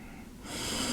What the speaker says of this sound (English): Nice deep yogic breaths.